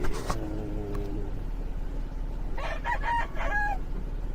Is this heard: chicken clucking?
yes